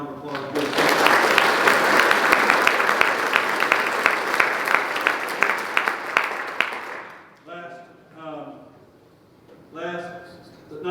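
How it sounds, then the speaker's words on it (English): A crowd at a 2021 Piqua Indians football awards night claps loudly for about seven seconds for an honoree, then the applause stops abruptly and someone speaks. "Let's give her a round of applause."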